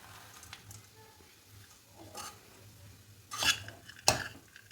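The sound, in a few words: stirring roasted dry fruits into sugar-free date mixture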